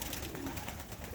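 Young pigeons coo softly outside their loft on a windy day, faint and low under steady wind noise.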